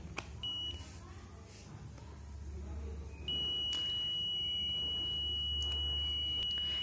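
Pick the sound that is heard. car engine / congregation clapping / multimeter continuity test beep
multimeter continuity test beep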